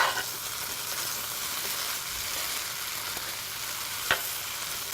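Pumpkin beef and cashew curry sizzles steadily in a pan while spices are stirred through, with a sharp spoon scrape near the end and no talking.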